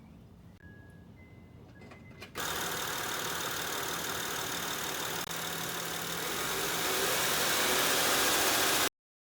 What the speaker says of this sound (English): we'll go ahead and start the engine and let it draw it in